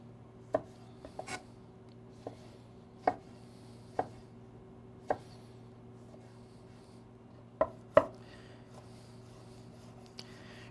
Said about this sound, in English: cut some tomatoes here to garnish my soup